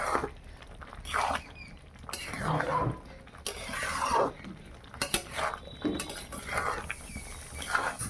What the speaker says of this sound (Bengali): এইভাবে আস্তে আস্তে নাড়িয়ে নাড়িয়ে করতে হবে, তলায় লেগে যেতে পারে।